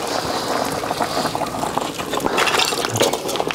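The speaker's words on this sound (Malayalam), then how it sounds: "ചക്കക്കുരു അങ്ങ് പുഴുങ്ങി വെള്ളമൊക്കെ അങ്ങ് തോരാനായിട്ട് അങ്ങ് വെക്കുവാണ്" Hot water drains off freshly boiled jackfruit seeds, a close, continuous watery splashing and trickling with some clattering, without talk.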